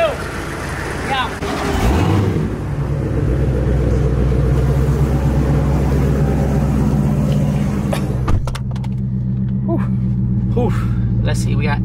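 A brand-new Dodge Hellcat with straight pipes, 700-plus horsepower in SRT mode, rumbles loudly and steadily up close, its deep exhaust drone swelling and holding with a brief dip near the end; voices are faintly audible.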